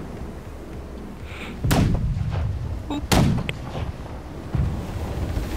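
Ship cannons fire in the naval battle game Blackwake, with two loud, booming blasts and a third softer one spaced a second or more apart, over steady background rumble and a brief spoken word.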